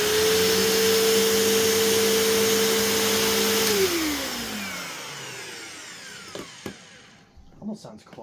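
A Bissell PowerTrak 6592 upright vacuum runs close and loud with a steady whining drone, then switches off and winds down. Its pitch slides lower over a few seconds before handling clicks and knocks follow.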